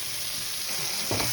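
Chopped tomatoes and green chillies sizzle in a hot pan in a short, close burst, with a low scrape of stirring rising at the end and no voices.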